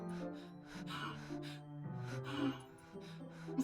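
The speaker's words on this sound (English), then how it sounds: "It sounds like breathing. A sharp inhale, like someone is sucking the air through their teeth." A sharp, hissing inhale drawn through the teeth, set in the Doki Doki Literature Club video game, repeating as faint close breaths over quiet background music.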